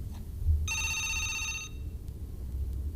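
A telephone rings with a bright electronic bell tone, one sustained burst of about a second over a low steady hum, during a talk broadcast, with no talking over it.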